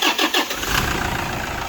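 A few quick cranking pulses give way to a 2008 Toyota Innova diesel engine catching and settling into a steady, close idle.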